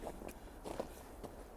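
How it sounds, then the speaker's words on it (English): Footsteps crunch on icy ground after a blizzard in Brooklyn, a few faint, brittle crackles spaced unevenly and close by. "Ah, ah, can you hear that? Ah, that's the ice. Crunchy."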